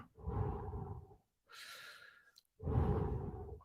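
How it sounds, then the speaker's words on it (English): A man breathes heavily through three long, loud breaths: a deep rasping inhale, a hissing exhale, then another deep inhale, all close to the microphone with no talking. "I am breathing heavily now."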